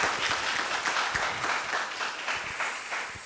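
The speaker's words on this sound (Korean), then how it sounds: "Let's give us applaud." An audience at a church conference breaks into warm applause, many hands clapping densely and evenly before slowly tapering off.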